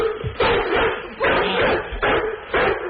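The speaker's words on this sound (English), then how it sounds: "He's a pit bull boxer, Max." A pit bull boxer puppy barks over a phone line in four loud, evenly spaced yelping barks that sound thin and narrowband through the call audio.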